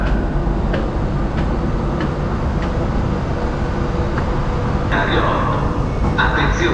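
A regional train bound for Treviso Centrale rumbles into a station with screeching wheels, while an Italian platform announcement plays over a loudspeaker.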